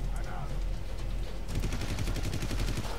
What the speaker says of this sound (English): wait until he's finished firing his weapon